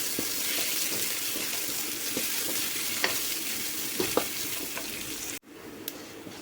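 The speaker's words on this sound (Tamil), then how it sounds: "தட்டி வச்சிருக்கிற ஒரு 6-7 பல் பூண்டு பல் சேர்த்துக்கிறேன்." Crushed garlic cloves, six or seven of them, frying in a pan for a vegetable stir-fry: a steady, moderate sizzle with occasional light spatters and a brief clink of a spoon near the end.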